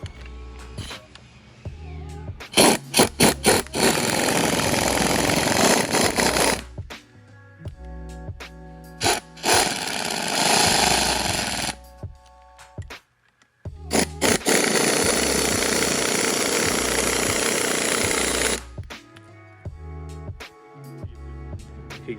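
Loud bursts of a power tool whirring and hammering while removing a strut nut with the coil springs compressed on a BMW E46 suspension job, several long runs separated by short pauses, close by with no talking.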